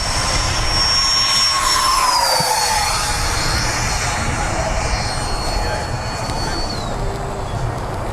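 Freewing F/A-18C Hornet 90 mm electric ducted-fan RC jet in Blue Angels livery on its maiden flight, a loud whining turbine roar that sweeps down in pitch as it passes fast, with people talking nearby.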